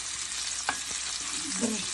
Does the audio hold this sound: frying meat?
yes